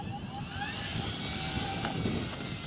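An Eflite Valiant RC floatplane sits on the water with its electric motor whining at a steady pitch, close and continuous, under a low rumble of wind.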